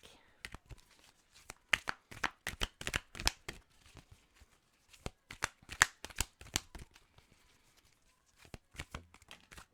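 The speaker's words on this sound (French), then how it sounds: "Je suis désolée, les cartes claquent." Tarot cards being shuffled by hand, snapping and flicking in quick irregular bursts of sharp clicks, close up and fairly quiet, with no speech.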